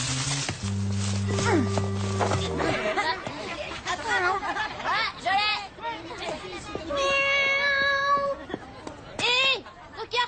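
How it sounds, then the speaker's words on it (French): A small kitten stuck in a tree mews in high, wavering cries mixed with animated cartoon voices and effects, the meows rising clearly near the end. "Il y a un petit chat trop mignon dans l'arbre, il est coincé, il peut plus descendre."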